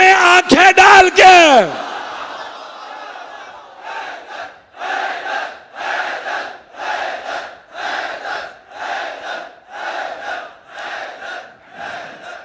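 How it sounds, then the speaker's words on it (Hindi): A Muharram majlis crowd chants religious slogans in steady rhythmic call-and-response waves, about a dozen loud regular bursts from a large gathering, following a few sharp shouts at the start. "आप लोगों ने नारों में वक्त ले लिया मेरा"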